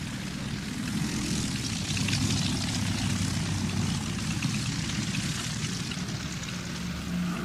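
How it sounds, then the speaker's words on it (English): A Junkers 52 propeller aircraft drones steadily with its engines, a continuous loud rumbling hum that holds its level throughout, with no voices. "Hitler said later that Franco should erect a monument to the Junkers 52, the aircraft that Franco had to thank for his victory."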